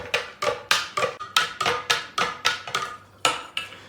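A spoon clinks steadily against a glass jar while stirring tincture ingredients and honey together, about a dozen sharp, bright taps in a brisk, fairly even rhythm, close and clear with no talking.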